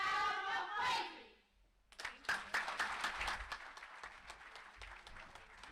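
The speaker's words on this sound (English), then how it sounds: "One more round of applause" After a speaker's raised voice, a crowd at a national dialogue event in the Gambia breaks into applause, moderately distant clapping building and continuing steadily with scattered louder claps.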